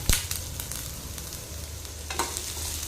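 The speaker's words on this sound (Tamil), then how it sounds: "இந்த பட்டரில் இந்த காய்கறிகள் வந்து நம்ம வதக்கி எடுக்கும்போது டேஸ்ட் வந்து ரொம்ப நல்லாயிருக்கும்" Chopped beans and cabbage sauté in butter in a pan for egg soup, a steady close sizzle with a sharp stirring clatter at the start and another near the end.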